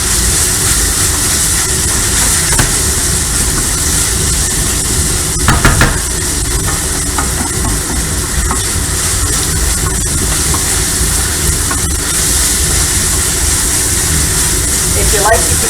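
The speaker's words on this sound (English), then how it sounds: "And we're going to let them saute." Onions and mushrooms sautéing in butter in a pan, a steady loud sizzle hissing throughout with occasional stirring clicks, as a person talks over it.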